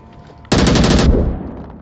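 In the Onward VR video game, a single loud burst of rapid automatic gunfire rattles out for under a second, then trails off into a short echoing tail.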